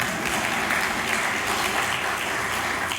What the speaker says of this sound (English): you're welcome to applaud if you like